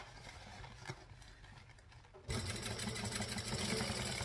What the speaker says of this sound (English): I'm just going to stitch and backstitch